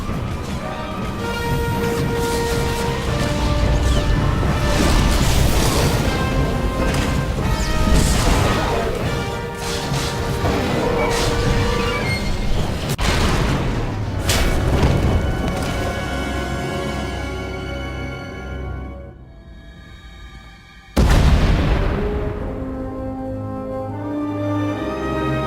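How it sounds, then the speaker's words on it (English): In a Star Wars KOTOR game mod, a tunnel collapses amid explosions: loud repeated crashes and booming impacts under dense game music, then a sudden near-silence before a sharp final burst. "We heard explosions, the tunnel collapsed."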